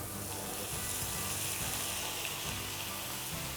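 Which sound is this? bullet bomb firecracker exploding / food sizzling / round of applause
food sizzling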